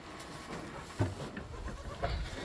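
Pregnant goats on a goat farm bleat in two short, fairly close calls about a second apart, over a steady background of farmyard noise.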